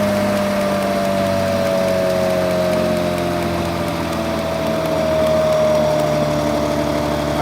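Steady engine drone from an Infinity B1000 vacuum trailer running at around 1500 RPM, with a constant mid-pitched hum and a faint whine riding on top, close and unbroken.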